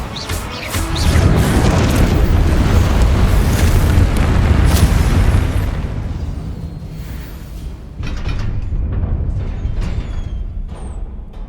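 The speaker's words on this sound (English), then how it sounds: "Expelliarmus!" In Hogwarts Legacy, an Expelliarmus spell blast sets off a loud, sustained roaring boom with crackling debris that eases off, followed by a second, lighter burst of rumbling and clattering.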